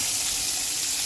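Vegetables hitting a sauté pan of melted butter give off a steady, loud broadband hiss and sizzle throughout, with no voices.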